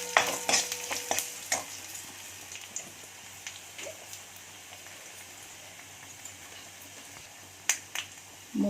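Panch phoron spice mix with cumin and mustard seeds frying in hot oil for an Odia santula vegetable curry, giving a faint steady sizzle dotted with scattered sharp pops and crackles, louder bursts near the end.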